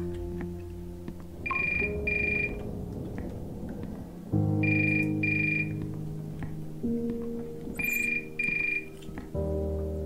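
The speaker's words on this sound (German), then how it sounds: "Telefon geht, nimm den Anruf entgegen" A telephone rings in the video game The Uncertain Last Quiet Day, repeated paired electronic trills pulsing over an ambient music bed.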